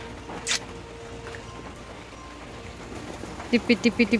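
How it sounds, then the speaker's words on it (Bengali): Continuous rain falling outside, a soft steady wash of drizzle that stays faint throughout, with a sharp click early on and a short run of pulsed tonal calls near the end. "আর বাইরে এখনও কন্টিনিউয়াসলি বৃষ্টি হয়েই চলেছে।"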